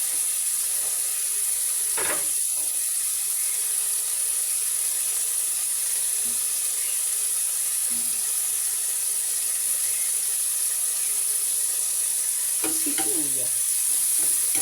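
Onions sizzling in a frying pan for chicken afritada: a steady, close hiss of frying runs throughout, with occasional scrapes and clinks of stirring.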